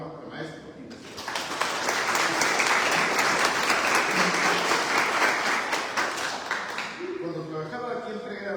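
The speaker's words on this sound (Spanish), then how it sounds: "Fuerte palmas para el maestro investigador." Audience at a Lima university library book fair breaks into sustained applause that swells quickly, holds loud and dense for several seconds, then fades as a voice resumes speaking.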